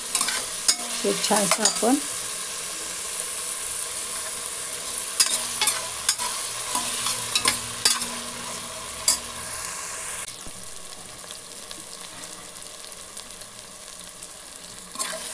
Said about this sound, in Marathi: आता आपण आलं लसूणची पेस्ट टाकून देऊया आणि लगेचच टोमॅटो टाकून देऊया